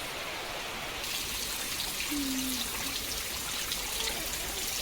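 Heavy rain falls over a dense forest, making a constant broad hiss of drops that stays even and fairly subdued throughout, with no voices.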